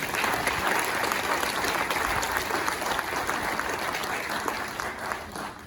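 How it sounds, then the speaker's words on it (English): An audience at a Houston event honoring a Guyana delegation claps steadily, a dense sustained round of applause that fades slightly toward the end. "So please give the Guyana delegation and the administration a round of applause."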